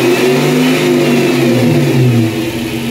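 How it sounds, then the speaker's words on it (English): A Mitsubishi GT 3.8 car engine revs loudly and steadily up close, its deep throbbing roar rising and falling slightly as the throttle is worked, with no voices over it. "Give it a little gas, see if it doesn't stall out."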